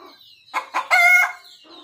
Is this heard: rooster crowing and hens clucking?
yes